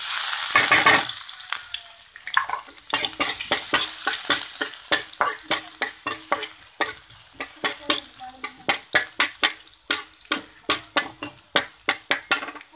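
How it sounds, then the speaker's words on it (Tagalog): Garlic sautéing in oil in a kawali pan, a steady bright sizzle broken by a long run of rhythmic spatula scrapes and clinks against the metal, close and loud, with no voices. "sa kawali, lagay tayo mantika. Okay. Isa tayo ng bawang"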